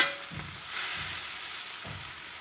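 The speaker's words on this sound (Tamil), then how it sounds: "தக்காளி போட்டு நல்லா வணக்கிட்டே இருக்கணும்" Onion and tomato sautéing in a pan for pepper garlic kulambu sizzle steadily, with soft rhythmic stirring thumps from a spoon, close and without talk.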